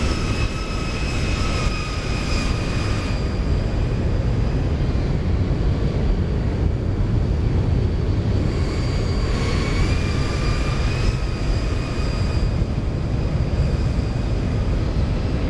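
Steady cockpit drone of a Boeing 737 in a flight simulator game as the landing gear comes down, a continuous broadband engine and airflow roar with faint high tonal whines, unbroken throughout.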